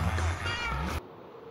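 A Minecraft cat gives a single clear meow, loud and close, with a brief voice alongside it before the sound cuts off sharply into near silence.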